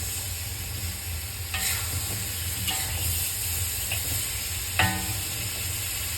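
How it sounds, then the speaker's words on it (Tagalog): Lotus root and pork ribs stirred in a hot pan for a braise in red bean curd sauce, with a steady sizzle under several distinct scrapes and clacks of the utensil, the loudest near the end. "Haluin lang siya ng haluin na ganyan hanggang umamoy the aroma"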